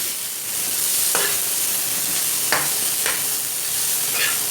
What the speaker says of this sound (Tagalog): Tuloy-tuloy lang po natin ang paghalo.